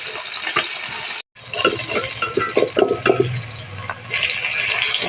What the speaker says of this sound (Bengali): আমি একটু কড়া করে ভাজা করব মাছগুলো।